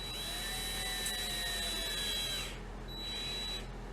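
A power drill drives iGrip ST 25 screw-in studs into a 1.6 Cobra track on a Polaris Assault snowmobile, a steady loud whirring whine that cuts out briefly near the end, then starts again for a shorter run.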